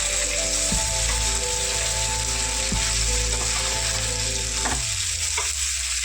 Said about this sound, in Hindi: एबे ताको पलटाई आ गोटे पट साइड मध्य कंडा करी फ्राई करिनेबा